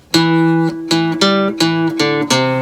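A guitar riff played in first position of sustained, ringing chords, six strums in a steady pattern, played close and loud with no talking.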